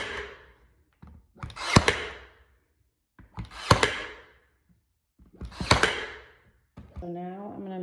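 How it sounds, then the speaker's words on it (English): Brad nailer driving nails into sliding barn door trim, three sharp percussive bursts spaced about two seconds apart, close and fairly loud, with a brief voice at the end. "take your brad nailer"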